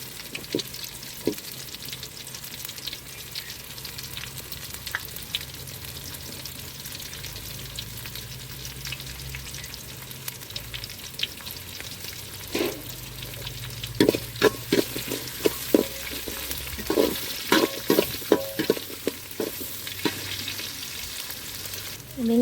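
Small onions (shallots) sauté in a pan for a fish curry, a soft steady sizzle broken by scattered scraping stirs that grow busier and louder toward the end, with no talking.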